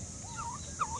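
Turkeys on a poultry farm kept for breeding, with two short warbling gobble-like calls, the second louder, over a steady low background hum.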